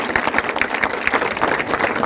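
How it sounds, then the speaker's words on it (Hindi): A crowd claps loudly and steadily at a welcome ceremony for ward number 27, producing a dense, continuous wash of applause with no pause. "एक बार जोरदार तालियां हो जाए।"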